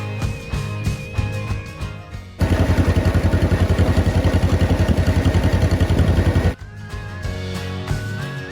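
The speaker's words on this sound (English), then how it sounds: "We're on the tractor, Sonny." A tractor engine runs on a family farm, bursting in as a loud, dense, rapidly pulsing roar for about four seconds, then cutting out and giving way to quieter background sound.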